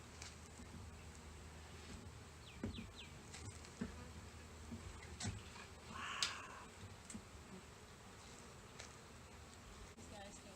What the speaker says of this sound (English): The bees are excited.